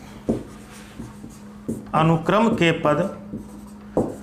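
Chalk or marker writing on a board during a math lesson, heard as short scratchy strokes, with a voice speaking over them through the middle.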